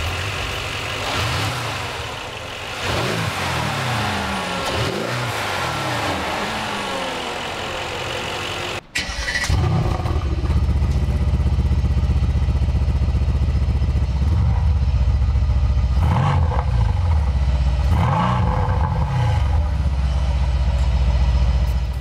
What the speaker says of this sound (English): Catapulting this C63S is an AMG 4-liter V8 bi-turbo engine handcrafted by Alexander